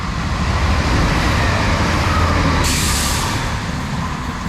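A diesel Turbo passenger train roars steadily past through a station in Surrey, bound for Gatwick Airport, at close range, a loud continuous rumble and hiss that stays heavy throughout.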